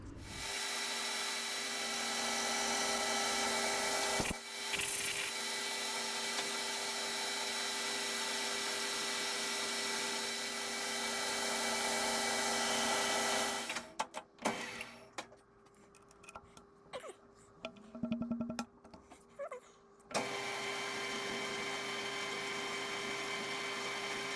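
A lathe drilling a hole to 5.5 mm in a Kawasaki engine intake push rod, a steady loud motor whine with a short break, then a stretch of intermittent cutting and clattering before the steady running resumes.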